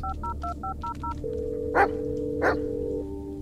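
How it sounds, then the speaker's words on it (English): A cell phone in the Blair Witch video game beeps out a quick series of six dialing tones, then a steady call tone holds while two short, sharp bursts cut in over a low ambient hum. "cell phone, cell phone, cell phone, cell phone. Yes, I've got, uh, reception. Call history. Let's phone Chase."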